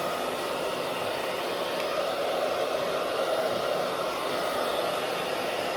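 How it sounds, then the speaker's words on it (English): A handheld blow dryer set to low heat dries a handmade ancestral mask, giving a steady, even whoosh of airflow close to the microphone throughout, with no talking. "I'm going to speed up the drying process by using my blow dryer."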